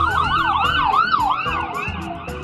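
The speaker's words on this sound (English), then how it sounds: "And there's an ambulance behind me." An ambulance siren wails loudly close behind a car, its rising and falling yelp repeating steadily with road noise underneath and no talk.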